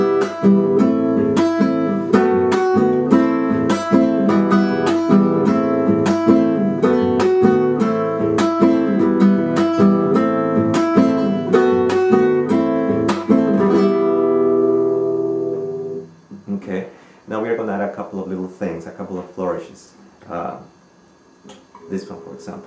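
Acoustic guitar strumming a combined 6/8 Latin American pattern, brisk rhythmic chords repeating steadily and close for about fifteen seconds, then stopping as someone speaks.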